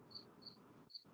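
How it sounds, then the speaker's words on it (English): Crickets chirp in short, high, bright pulses, three quick chirps over a soft, quiet background. "I just hear crickets."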